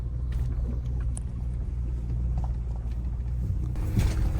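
Car creeping slowly over rough, scratchy gravelly ground on the way to an abandoned military hotel, a constant low engine and tyre rumble with crunching and scraping bursts, growing rougher near the end, with no talking.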